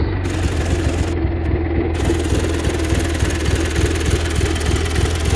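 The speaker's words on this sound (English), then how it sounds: "Once it warms up, it idles real nice." A warmed-up 1967 Cub Cadet 71 garden tractor engine idles steadily up close, a loud, even low chugging with a slight knocking pulse and vibration running unbroken throughout.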